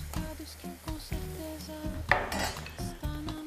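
A ladle clinks and scrapes against metal cookware while salted pasta cooking water is scooped into a sauce pan for linguine. A close run of uneven clanks and knocks is followed by a brief, brighter splash and sizzle.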